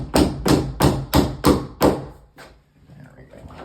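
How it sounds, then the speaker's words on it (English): A hammer strikes a loose closet double-door hinge six times in a steady rhythm of heavy, close thuds, followed by a couple of lighter taps and quiet handling. "and now I'm gonna hammer on it."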